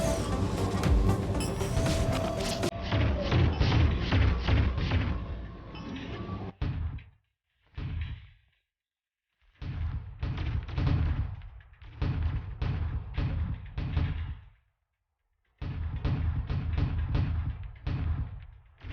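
Gunfire and heavy explosions as a tank is destroyed in the PC game Artificial Extinction, a dense roaring barrage at first, then separate loud bursts and rumbling blasts broken by short silences.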